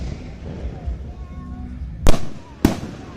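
Two sharp fireworks bursts going off outdoors at a Kansas fireworks show, loud and close, about half a second apart, over a steady background murmur.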